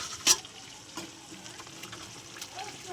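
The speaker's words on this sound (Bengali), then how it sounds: "তো ফুটে গেছে, মাছগুলো দিয়ে দিচ্ছি" Kajli fish dropped into a boiling, spiced turmeric and red chili mixture in a pan, giving one sharp splash followed by a low bubbling sizzle with a few faint clinks.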